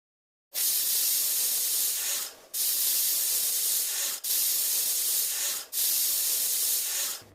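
A pressure cooker with mutton inside releases steam in four loud, sustained hissing bursts separated by brief pauses, close by with no talk.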